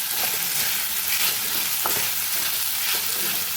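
Pasta coated in tomato ketchup and masala fries in a pan, a constant close sizzle with stirring scrapes throughout, no talking.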